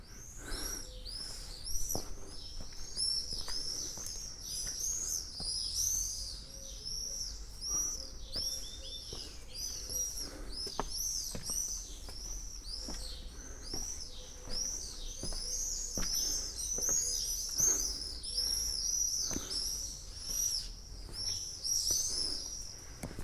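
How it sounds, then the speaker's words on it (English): A flock of starlings calls overhead in a dense, continuous chatter of rapid chirps, whistles and clicks, moderately distant and unbroken throughout. "The starlings are going crazy up there."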